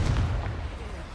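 A Confringo spell blast in Hogwarts Legacy, a short, heavy booming explosion with a deep low rumble that fades quickly.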